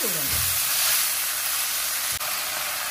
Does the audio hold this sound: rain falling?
no